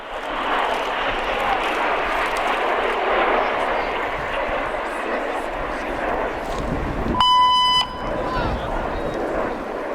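A cockpit button tone relayed over the Red Arrows display radio: a steady electronic beep that cuts in for about half a second, loud and clean, above a constant roar of jet engine noise and radio hiss.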